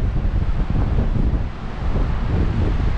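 Strong wind at Rainbow Beach, Queensland, buffets a microphone with a low, rumbling roar that surges and dips, with no voices.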